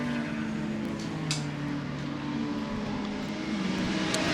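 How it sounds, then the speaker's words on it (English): Historic racing cars, among them a Lagonda and a C-Type Jaguar, circulating at the Goodwood Revival with a steady engine drone and a rising whine as cars pass at a distance, with no clear voice. "And there's 30 cars on track"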